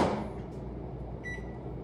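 A microwave oven running with pizza inside gives a loud, steady low hum close by, starting with a clunk as it kicks on, and a faint brief high tone partway through.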